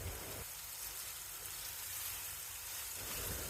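Onion and tomato sautéing in a pan for a Tamil-style onion tomato fry side dish, giving a steady soft sizzle and crackle that runs continuously at low level, with no voices.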